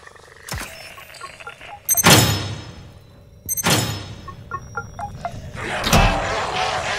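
A hidden vault door in Modern Warfare 3 Zombies grinds open in stages, with heavy mechanical clanks and thuds at intervals and a final loud thump, close and prominent.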